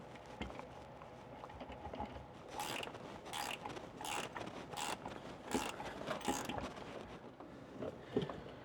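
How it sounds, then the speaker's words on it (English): PTO gears on a Ford LTL9000 truck being rocked by hand to check backlash, a series of faint metallic clicks and clunks in a quiet shop, with no talking. "We'll reach in with the dowel indicator and see what our backlash looks like."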